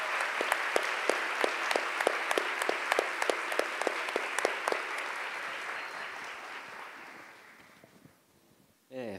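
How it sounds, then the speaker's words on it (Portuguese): An audience at a literary and music panel applauds in tribute to teachers, with distinct sharp claps near the start swelling into steady applause that gradually fades over several seconds before a brief voice returns at the end. "Queria uma salva de palmas para os professores"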